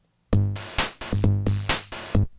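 A short, punchy Roland 606 drum machine pattern through one stage of distortion, with gritty kick and snare hits, a few beats only, with no speech.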